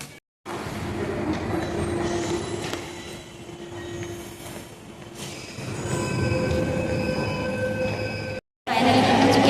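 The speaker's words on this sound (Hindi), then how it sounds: "मेट्रो का इंतजार कर रहे हैं, मेट्रो आ रही है अभी।" A metro train pulls into a station, its rumbling approach and high metallic wheel squeal building and lingering steadily, with the clatter of carriages close by and no talk.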